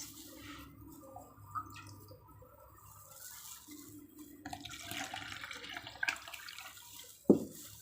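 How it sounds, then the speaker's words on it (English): Water pours into a container while liquid soap is being made, a soft trickling and splashing that grows steadier toward the end, quiet and heard alone. "I'll add water to it"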